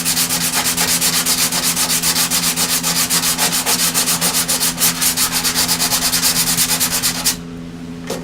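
Bondo body filler on a car is hand-sanded in fast, even back-and-forth strokes, loud and close over a steady low hum. The rhythmic scraping runs for about seven seconds, then stops abruptly.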